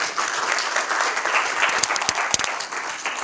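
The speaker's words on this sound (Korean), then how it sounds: "다시 한번 큰 박수를 부탁드리겠습니다" Attendees at a history lecture applauding the speaker, a full dense burst of clapping that stays loud and even, with a few sharper individual claps standing out near the end.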